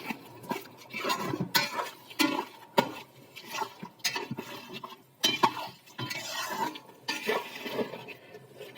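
Spices and onions being stirred together in a cooking pot for chicken biryani made with broiler chicken and packet masala: repeated scraping and clinking of a spoon against metal, irregular and close, with no talking.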